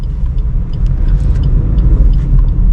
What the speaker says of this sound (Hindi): देखो फर्स्ट गियर पे गाड़ी मैंने हाफ क्लच छोड़ा, 20 की स्पीड आ गई, सेकंड गियर